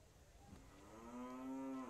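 A single low cow moo in the video game Railway Empire swells up in the second half, close and clear, after a quiet start.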